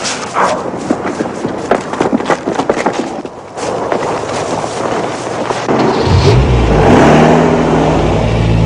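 A stolen car pulls away, its engine revving up and rumbling louder near the end of the clip after a stretch of scuffling, rustling background noise.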